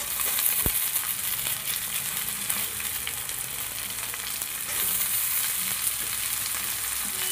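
Pieces of young jackfruit fry in fat in a pan with a loud, continuous hiss and crackle. A single low knock comes early, then an even sizzle runs throughout.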